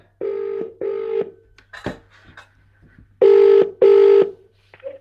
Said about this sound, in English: So let's get Alla on the phone.